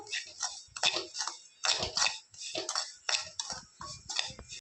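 A spoon stirs semolina roasting in plenty of ghee for banana rava barfi, producing repeated close scraping and clinking against the pan in a steady, busy rhythm, fairly quiet.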